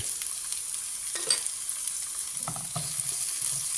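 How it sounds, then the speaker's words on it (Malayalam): Onion and tomato sauté in a pan at home while a spoon stirs them, a soft steady sizzle with light scraping now and then, faint and close with no talking. "ഇനി ഇത് നല്ലോണം ഒന്ന് വഴറ്റണം."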